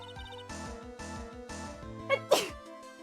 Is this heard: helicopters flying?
no